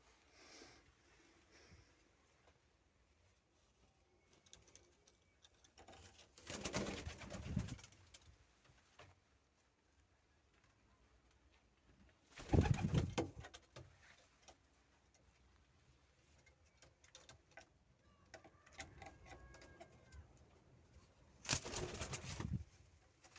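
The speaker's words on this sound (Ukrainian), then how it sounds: "Це мої голуби." Soft pigeon coos and rustling with a few louder bursts of wing flapping or scuffling, spaced apart in a quiet space.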